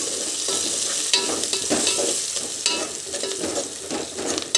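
Onions frying with curry leaves, coriander and mint for mutton curry, a close steady sizzle broken by repeated spatula scrapes and stirs.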